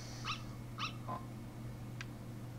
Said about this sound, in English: Ooh, dog! Tiny dog.